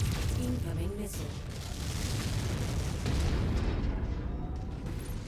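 Missile blasts and booms in the MechWarrior 5: Mercenaries video game, with a dense, continuous low rumble of explosions sustained throughout, loud and close, with a voice talking over it.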